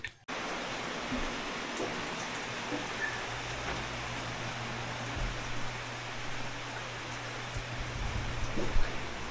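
Rain falls in a steady, even wash of soft hiss that continues unbroken at a moderate, fairly distant level, with no talking.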